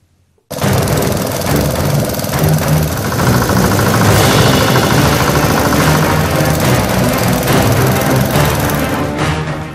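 Four or five motor pumps run beside a full village lake, pulling water for farmers' crops, making a loud, continuous mechanical chatter and drone that starts abruptly and holds steady throughout.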